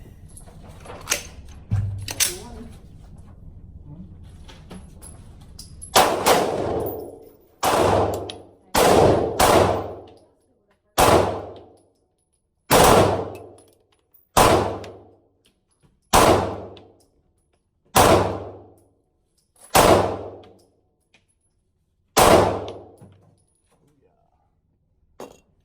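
Ten rounds fired from a Stoeger STR9 9mm pistol at a range, each shot a sharp, loud crack with a decaying tail, spaced steadily a second or two apart, after a few quieter handling noises at the start.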